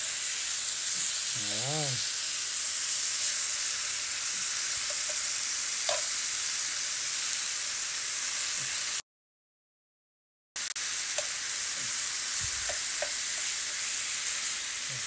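Pork belly frying and being stirred in a pan gives a steady, close sizzle with a few scraping stirs, a short voice heard briefly near the start.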